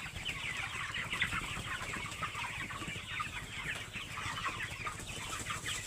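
Chickens in a poultry shed fill the air with dense, continuous clucking and chatter from many birds at once, steady and close, with no talking.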